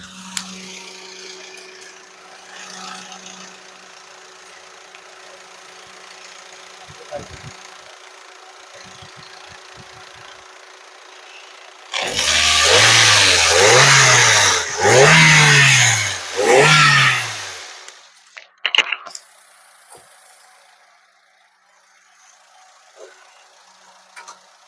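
A white Toyota Etios G hatchback idles quietly before its engine revs hard in four distinct rising and falling bursts, then settles back to a low idle, heard up close with a few clanks afterward.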